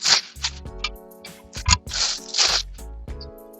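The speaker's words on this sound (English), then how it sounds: "let's take them out of the plastic so you can see them better" Crinkling and rustling of plastic packaging as dock light parts are pulled out, a series of close crackling bursts with a few hard knocks and scrapes in between.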